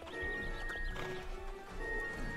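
Horse hooves clip-clopping in the online game Star Stable Online, a steady quick gait under continuous game music and ambience, with a soft whinny mixed in.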